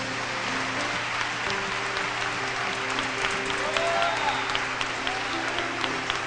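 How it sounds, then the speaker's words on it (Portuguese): A church congregation breaks into sustained applause, steady and fairly loud throughout, with sustained organ or keyboard tones underneath and occasional voices mixed in. "Irmãos, eu quero que vocês tenham uma salva de palmas por essas pessoas."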